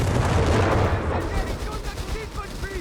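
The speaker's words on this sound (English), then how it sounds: "Second Vic is being pushed back by artillery fire." Artillery shelling from a Company of Heroes 3 match, a dense barrage of booming blasts and rumbling impacts loud at first, then thinning into scattered distant explosions with brief whistling shell sounds.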